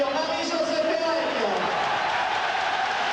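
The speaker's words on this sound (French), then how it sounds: "Formidable ovation pour Marie-Josée Pérec au centre de la pelouse." A stadium crowd at the Marseille versus Olympiakos UEFA Cup football match, 1994–95, gives a standing ovation for Marie-José Pérec: a steady, loud roar of applause and cheering with a commentator talking over it.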